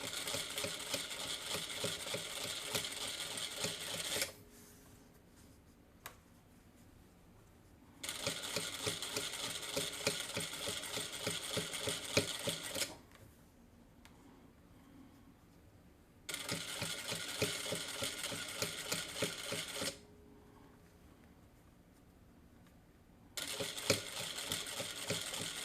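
A Vevor M2 sewing machine stitching welt and piping at a 2.5 stitch length, running in four rapid mechanical chattering bursts separated by quiet pauses, close and steady with no talking.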